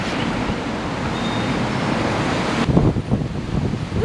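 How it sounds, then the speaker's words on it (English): Strong wind gusting across a rooftop during outdoor roof work, a steady broad rushing roar that swells and buffets the microphone, with louder gusts near the end. "Woo, it's windy."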